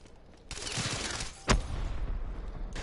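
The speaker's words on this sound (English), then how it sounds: "That fucking gun is loud as shit." Loud gunfire in a Call of Duty match: a burst of rapid shots crackles for about a second, then a single sharp, heavy boom stands out before more rattling fire follows.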